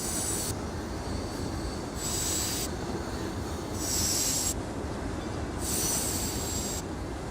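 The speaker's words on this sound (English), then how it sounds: "the freight train will soon exit the engine terminal and head onto the main line itself" A freight train in the video game Transport Fever 2 runs with a continuous heavy rail rumble and repeated high wheel squeals that rise and fall in regular pulses, loud and close, with no talking.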